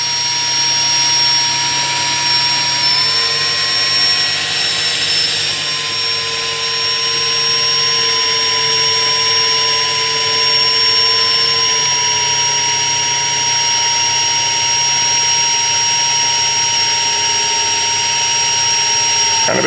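A power drill boring through a hardened exhaust fastener on a 2015-2017 Yamaha YZF-R1 runs at a slow, steady pitch. The whine is loud, continuous and close, with no talk over it.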